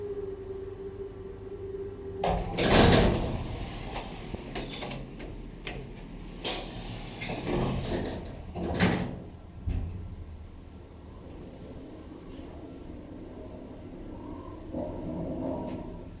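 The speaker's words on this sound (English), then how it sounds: "Noisy doors." Elevator sliding doors in a university administration building, rattling and clunking loudly as they move, with several sharp knocks and clatters over a quiet mechanical hum.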